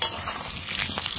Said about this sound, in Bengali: অল্প একটু হলুদ দিয়ে আলুগুলো ভেজে নিচ্ছি।